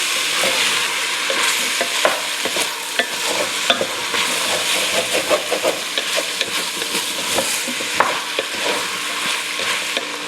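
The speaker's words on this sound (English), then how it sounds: "let's mix that up. I'm going to cook for just another minute." New Mexican green chili stew sizzling steadily in a pan while a utensil stirs it, with repeated scraping clicks and knocks over a constant frying hiss, close and fairly loud.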